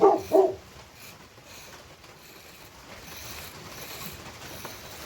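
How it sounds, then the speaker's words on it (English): Two quick dog barks at the very start, fairly close, followed by several seconds of quiet background noise. "I apologize for the dog barking."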